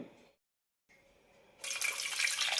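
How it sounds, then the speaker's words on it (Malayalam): Water from a tap runs into a pot of sweet potatoes, starting with faint trickles and then a loud, steady gushing pour near the end. "ഇതിലേക്ക് ആവശ്യം വെള്ളം ഒഴിക്കാം"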